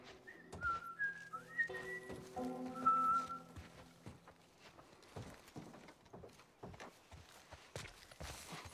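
A character in The Last of Us whistles a short wavering tune of several notes, followed by soft footsteps and light movement sounds in a quiet game scene.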